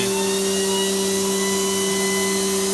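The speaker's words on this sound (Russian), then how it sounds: "Закрываем крышечку, включаем вращение, нажимаем ОК." A DBST-10 balancing machine spinning steadily with its lid closed, a loud continuous whirring hum with a strong tonal whine and no speech.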